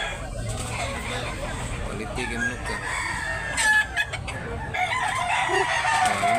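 A young rooster crows and clucks among other chickens at a busy poultry market in Tabunok, Talisay, Cebu, with people talking over the birds.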